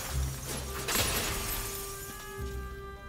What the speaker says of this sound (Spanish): es mejor que vayamos rompiendo los cristales